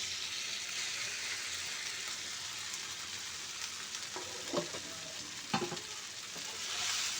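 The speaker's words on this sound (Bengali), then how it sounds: "তো চিঁড়েটা দিয়ে আমি খুব ভালো করে নেড়ে চেড়ে মিশিয়ে নেব।" Soaked flattened rice (chira) is stirred into fried spices in a hot pan, giving a steady soft sizzle with a few brief scraping strokes near the end and no talking.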